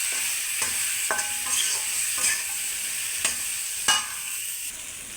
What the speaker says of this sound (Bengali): এখন তেলের ভিতরে আমি আলুটা দিয়ে দেবো।